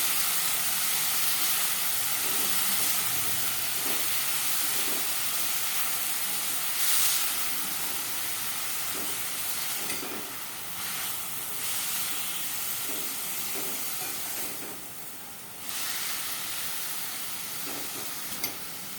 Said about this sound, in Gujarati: સરસ રીતે હલાવી દઈશું આપણે